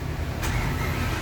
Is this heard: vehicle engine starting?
yes